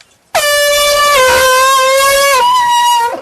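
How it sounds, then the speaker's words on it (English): A single loud air horn blast sounds abruptly and holds for about three seconds, a harsh, steady blaring tone that cuts off sharply. "Now hit the air horn"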